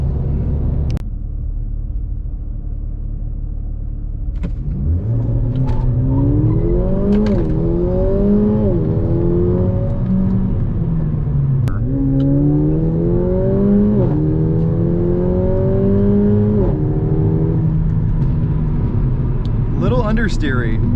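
Mercedes-AMG CLA45 engine pulling hard through a corner, a loud rising rev that climbs through several gear changes with turbo whir, close and steady, while a person talks over it.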